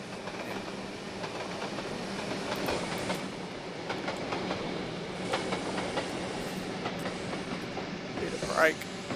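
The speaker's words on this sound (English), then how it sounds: "Here we go, here comes the train." A train rolls in steadily on the Wallaby Flats route in a video game, rumbling wheels and rail clatter, a brief brake squeal near the end, and a voice talking faintly underneath.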